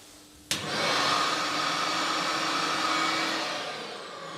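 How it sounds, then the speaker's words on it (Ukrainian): The built-in dust extraction fan of a 9craft 802 220V automatic edge banding machine kicks on with a sudden start and settles into a loud, steady whooshing roar, then begins to wind down. "І верстат має в нас систему аспірації вбудовану."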